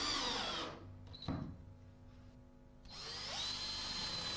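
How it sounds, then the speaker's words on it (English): Power drill running a Trend Snappy countersink bit into a chipboard floor, a loud whirring burst that drops away, a brief knock, then the motor spins up again for a second sustained run. "using the Snappy countersink bit to drill the hole and the screwdriver bit to complete each fixing"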